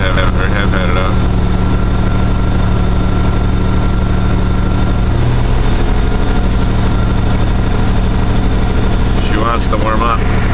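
A carbureted 1982 GMC S-15 pickup idles steadily through a cold start and warm-up at 35 degrees, its loud, constant engine rumble filling the whole stretch without letting up.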